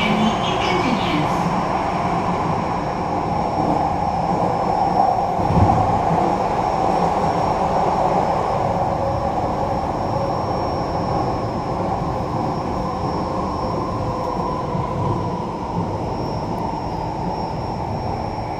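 An MRT metro train runs with a loud, continuous rumble and hum heard from inside the carriage, steady throughout with only slight swells.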